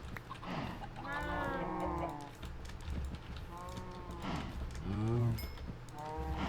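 Cows in Thaumcraft, a Minecraft mod, let out several drawn-out moos with brief gaps between them, close by and fairly loud over a faint background.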